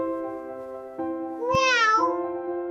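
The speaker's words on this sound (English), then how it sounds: "a cat cries loudly before sunrise every single day" A cat lets out one loud, rising and falling meow that sits over a steady droning hum and fades back into it.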